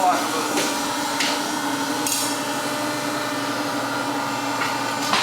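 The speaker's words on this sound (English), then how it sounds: "Now this press brake hasn't been ran in a little while, so I'm gonna let it run a little, kind of cycle the oil through" A hydraulic press brake runs steadily to cycle its oil, giving off a continuous mechanical hum with a few brief metallic clanks and scrapes scattered through it.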